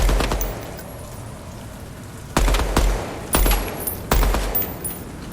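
Automatic gunfire in the video game Deadrop, with four sharp bursts of rapid shots after a quieter stretch, each a loud, punchy volley with a low thump.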